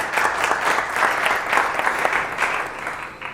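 Applause at a real estate mentorship graduation ceremony as a guest stands, a continuous wash of many hands clapping from a sizeable crowd, moderately loud and steady throughout.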